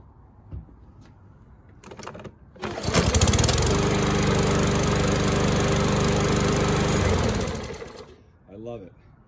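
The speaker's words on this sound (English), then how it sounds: "It's a Briggs EX engine." A repaired Briggs & Stratton EX lawn mower engine catches and runs loud and steady for several seconds, then shuts down, with a voice speaking briefly before and after.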